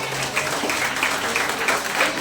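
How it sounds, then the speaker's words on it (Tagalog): Church congregation clapping together during a worship service, a steady, moderately loud stretch of many hands applauding with faint voices mixed underneath. "Pumalakpak sa Panginoon ang mga masaya."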